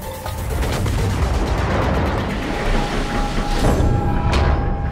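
Battleship North Carolina's big naval guns firing in World of Warships, heard as continuous loud low rumbling booms with a couple of sharper blasts over steady sea and engine noise.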